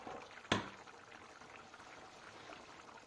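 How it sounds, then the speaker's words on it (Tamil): Chettinad mutton gravy simmering in a pot, a low continuous bubbling and gurgle heard close but faint, with a brief sharp splash or clatter early on. "குழம்பு கொதிச்சிருச்சு கறி எடுத்து போட்டோன்னே"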